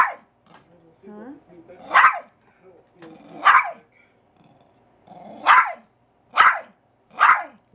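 Big puppies barking from a video, about five loud, sharp barks spaced a second or two apart, with quiet talking and a low growl in the gaps.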